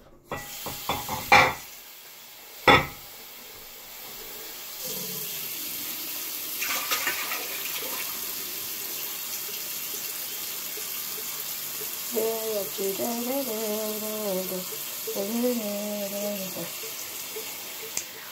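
Water runs from a tap during rinsing, a steady hiss and splash after a few knocks and clunks, with a voice talking briefly over it near the end.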